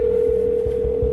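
A steady telephone dial tone hums continuously on a police phone call, with faint low thumps beneath it and no talking.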